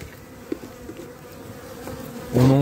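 Honey bees drone around an opened hive full of honey frames, a steady close buzz that swells loudly near the end as bees fly right past.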